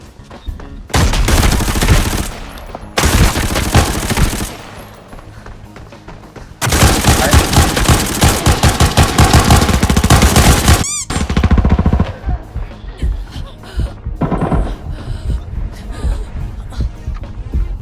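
Automatic gunfire in the video game Arena Breakout rattles in long, loud sustained bursts with brief pauses between them, dense and close, while a voice speaks in the quieter gaps.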